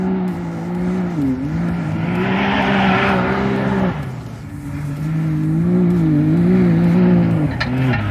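A Can-Am off-road vehicle drives on a dirt track, its engine droning loud and steady up close with wavering pitch as it climbs and eases, joined by gritty rushing from the terrain.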